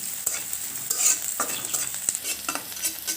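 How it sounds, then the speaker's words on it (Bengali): Onions sizzle in hot oil as a spatula stirs them around the pan for a quick egg dish, with a constant frying hiss broken by several sharp scraping strokes over a few seconds. "পেঁয়াজটা সামান্য নাড়াচাড়া করে আমরা ভেজে নিলাম।"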